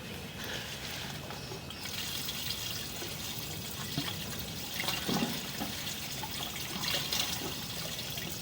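Water runs through a cast iron drain pipe with a low spot, a steady close trickling and rushing flow with a few louder gurgling surges along the way.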